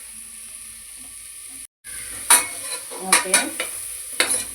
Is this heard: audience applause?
no